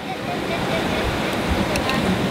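Sea waves on a beach, with a constant loud wash of surf and wind rumbling steadily throughout.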